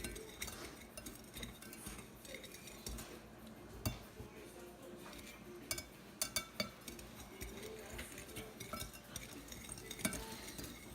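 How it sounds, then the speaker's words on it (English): A metal whisk stirs a homemade organic toothpaste mixture in a small bowl, making faint, irregular clinks and soft scraping with a few sharper taps. "Just mix it all up, whisk it, and you're gonna create a nice paste."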